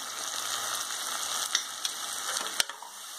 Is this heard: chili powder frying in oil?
yes